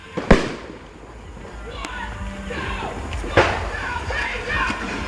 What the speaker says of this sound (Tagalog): Ma, madaming paputok.